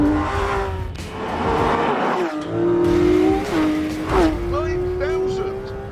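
A Porsche 911 GT3 RS with a naturally aspirated 4-litre flat-six revving toward a 9,000 rpm redline drives hard, its engine note rising and falling through gear changes with brief tire squeal, loud and continuous under someone talking.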